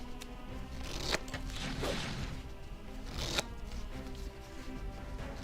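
Card-shuffling sounds in a video game with a steady hum behind them, two sharper riffling bursts standing out briefly, close and moderately loud.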